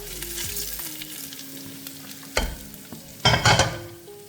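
Jackfruit is stirred into a simmering beef mixture in a pan, with a low steady sizzle broken by two louder, close scraping bursts of the spoon toward the end.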